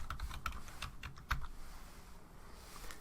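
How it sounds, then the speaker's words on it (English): Quick, uneven keystrokes as a password is typed on a computer keyboard while adding a new user on a Linux system; close, crisp clicks in short bursts with no voice. "I'll type that in."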